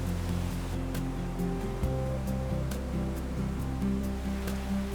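A waterfall in Guadeloupe pours onto rocky blocks below, a loud continuous rushing roar of falling water with a steady, unbroken wash.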